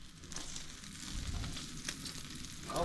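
Bacon sizzles steadily in a pan at a snowy mountain campsite, a dense broadband crackle with a faint thump near the end, close and moderately loud with no voices.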